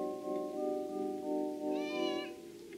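A cat meows loudly and close by in a long, drawn-out call that rises in pitch near the end.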